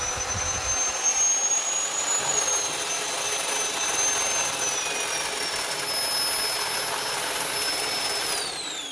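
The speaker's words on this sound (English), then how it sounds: "when I turn the machine on full speed, number 5, the machine starts spinning super fast" A Porter Cable 7800 10-inch drywall and ceiling sander runs at full speed with a loud, steady high-pitched whine. Its pitch drifts slightly as the motor spins up, and it plays alone with no speech.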